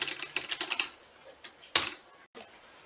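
Quick bursts of computer keyboard typing, a rapid run of close, light key clicks followed by a few isolated taps and one sharper keystroke in a quiet room.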